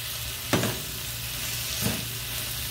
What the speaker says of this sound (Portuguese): E vamos deixar ele fritar um pouquinho também, para dar uma murchada, a pelinha começar a soltar.